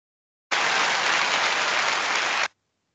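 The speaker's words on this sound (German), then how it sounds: "Oh, Applaus und Musik." An even, steady wash of clapping lasts about two seconds, then cuts off abruptly, with no separate music standing out.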